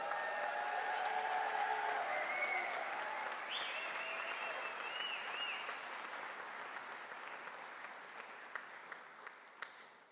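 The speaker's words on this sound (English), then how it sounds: "You should give yourselves a round of applause." A hall of new physician assistant graduates at a graduation ceremony breaks into sustained applause, loud and dense at first and then slowly thinning, with a few sharp individual claps standing out near the end.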